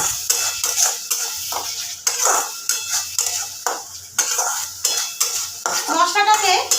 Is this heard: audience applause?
no